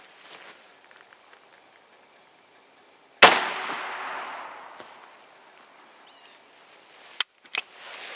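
A single loud blast from an IGA Boito Hiker .410 shotgun fired over a chronograph about eight feet away, a sharp crack with a long decaying tail, followed later by two brief clicks.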